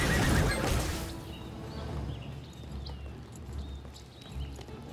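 A horse in the online role-playing game Lost Ark gives a loud, close whinny that trails off, followed by soft hoof clip-clops and ambient game sounds.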